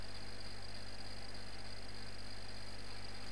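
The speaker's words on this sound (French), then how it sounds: "le bruit que vous entendez, c'est mon ventilateur." An electric fan runs steadily and alone, a constant even whoosh with a low hum and no change over the few seconds.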